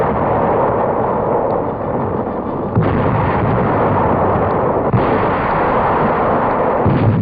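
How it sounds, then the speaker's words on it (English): A naval barrage fires during the 1944 Normandy landings. Dense, continuous rumbling booms and blasts of gunfire overlap without pause on a muffled, band-limited archival soundtrack. "Landings are made under a naval barrage."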